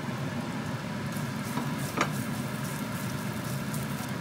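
Ginger frying in about two tablespoons of hot oil in a pan over medium heat, giving a continuous close sizzle and crackle with a brief stirring scrape partway through.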